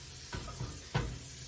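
Butter sizzles in a pan for French toast, a steady close frying hiss with a few soft knocks or stirs of the pan breaking through.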